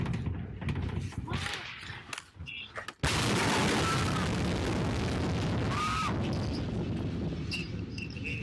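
A massive explosion in Beirut strikes after a few seconds of distant crackling and pops, then becomes a sudden loud blast followed by a long rumbling roar and debris noise with faint bird calls.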